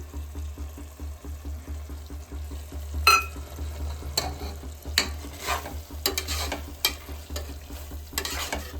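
Paste and curd being stirred together in a pan, giving scattered scraping and clinking strokes with a soft sizzle underneath and a low steady hum throughout; no one speaks.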